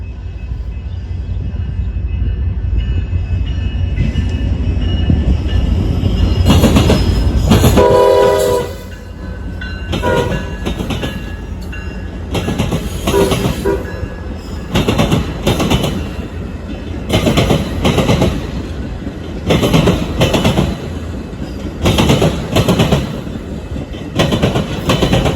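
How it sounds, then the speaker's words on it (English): A Metra commuter train out of Chicago with a special lead locomotive roars past a crossing, a loud sustained rumble followed by rapid rhythmic clatter of wheels over rail joints as the cars pass close by. "it was for another Metro commuter train coming out of Chicago, with a special locomotive in the lead"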